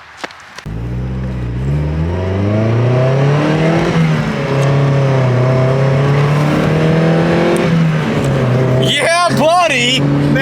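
A Porsche Cayenne engine revs and pulls steadily while driving, its tone rising and falling through gear changes, with a brief sharp whir near the end.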